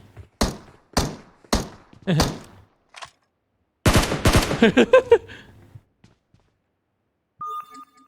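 Gunfire from the PUBG Mobile video game, first as several separate sharp shots and then as a dense automatic burst, followed by near silence and a faint electronic tone.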